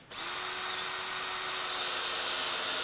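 A power drill spins up and runs at a steady high-pitched whine, driving coated decking screws into a 4x4 board, close and continuous with no talking.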